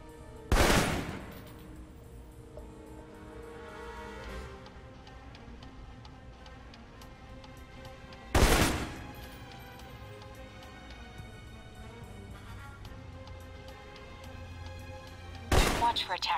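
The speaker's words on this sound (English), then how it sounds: "For long-range encounters, the assault rifle's the key." Three separate bursts of assault rifle fire from the video game Alpha Protocol, each short and loud, spaced several seconds apart over quiet in-game background.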